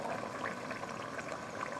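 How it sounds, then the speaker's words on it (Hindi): Water pours into a pot of potato mutton curry, making a steady, faint, continuous splashing and bubbling wash with no talking. "अब मैंने इसमें पानी ऐड कर दिया।"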